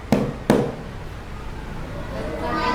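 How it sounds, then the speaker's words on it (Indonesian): Two sharp taps strike a table in a classroom, spaced about a third of a second apart, followed by quiet room tone with faint background voices. "Tepukan meja."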